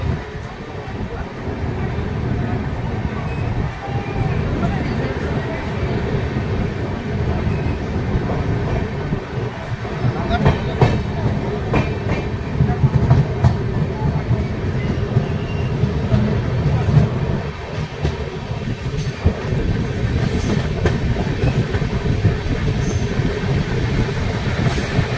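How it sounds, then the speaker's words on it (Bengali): Jan Shatabdi Express pulling out of Bhadrak station on the Bhubaneswar–Howrah line, a steady loud rumble of rolling wagons with faint wheel clatter and brief squeals, continuous and close. "ফাইনালি ভদ্রক থেকেও ট্রেন ছেড়ে বেরিয়ে যাচ্ছে।"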